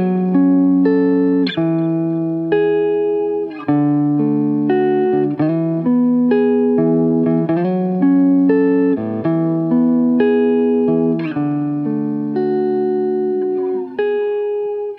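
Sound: electric guitar bars played in Melodyne editor

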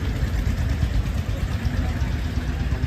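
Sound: tractor engine running

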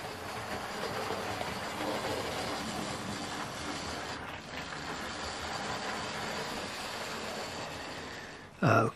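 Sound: model train locomotive reversing on layout

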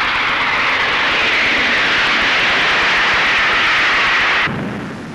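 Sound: airplane engine in flight

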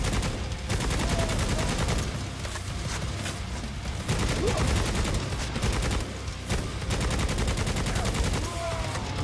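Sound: shotgun gunfire in a video game

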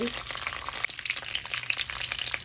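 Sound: mustard seeds, chana dal, garlic, curry leaves frying in oil

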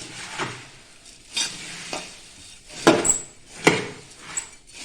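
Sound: stirring bhadang with powdered sugar and salt

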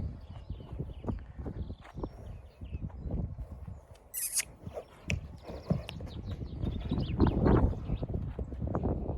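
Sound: stallion horse moving and whinnying

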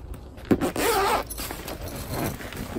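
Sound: zipper on Louët Victoria art yarn bag

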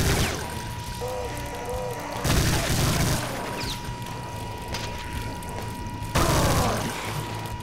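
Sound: grenade explosion in the video game Brutal Doom

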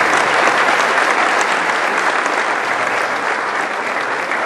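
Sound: applause for a team presentation

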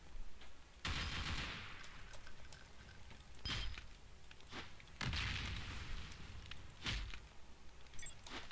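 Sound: chaingunner enemy firing in Doom Project Brutality video game

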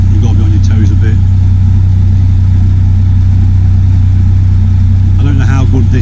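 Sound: narrowboat engine running

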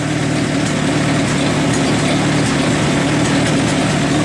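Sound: Allis Chalmers C tractor engine at half throttle

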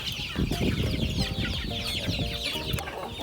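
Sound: chickens clucking

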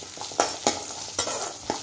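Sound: ground coconut and spices sauteing in a pan

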